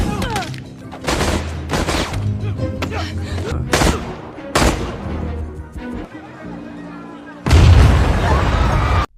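Explosions and gunfire from the Thunderbolts film as a laboratory is blown up: loud booms and rapid bursts of shots in clusters, ending in a heavy, rumbling blast.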